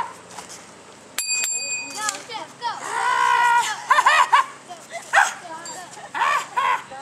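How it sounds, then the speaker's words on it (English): Ring bell at an HWA independent wrestling show, a sharp metallic clang struck once early, followed by crowd noise and overlapping voices shouting in a lively arena. "Waiting on the ref to ask for the bell"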